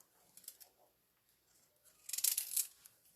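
A knife cuts the ends off peeled carrots with a couple of faint clicks followed by a louder, crisp crunching slice, quiet and close with no voices.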